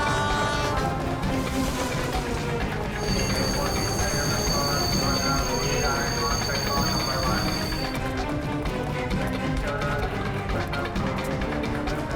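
A train rumbles and clatters steadily and loudly throughout, with a sustained high squeal or whistle-like tone in the middle, and voices talk over it.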